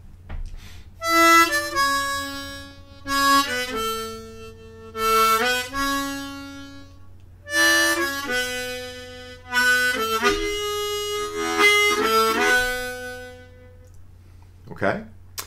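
A harmonica plays a slow octave melody using tongue blocking, in full, bright chords, each note held with a steady tone and short gaps between phrases, no voices.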